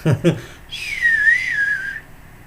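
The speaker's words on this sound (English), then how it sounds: "I can whistle real good though." A brief voiced sound, then a single clear whistled tone sliding gently up and down for about a second, close and fairly loud.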